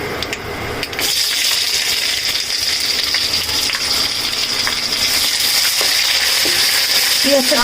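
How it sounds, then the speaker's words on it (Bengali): Onions fry in hot oil in a wok with dried chillies, bay leaves and cumin, giving a loud, continuous close-up sizzle after a brief quieter start, with faint stirring scrapes and no voices. "এখন কড়াইতে পেঁয়াজ দিয়েছি"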